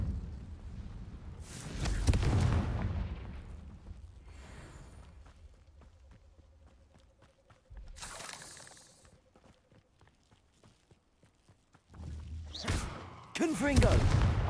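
Confringo spell blasts in the Hogwarts Legacy video game land as a few separate loud bursts with thuds between them, set apart by quieter gaps, and a voice shouting in the background.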